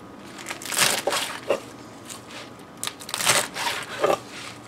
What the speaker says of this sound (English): You can hear the freshness as it crunches when you cut it